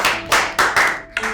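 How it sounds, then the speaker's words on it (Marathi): A small group in a classroom claps in short, quick bursts, four or five spurts that each swell and fade, loud and close with no talking. "टाळ्या वाजवा"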